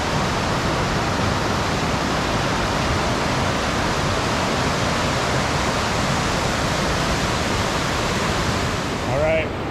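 Whitewater roars through Staircase rapid on a river rafting run, a loud, steady, broadband rush that holds without a break close by, swelling slightly at the very end.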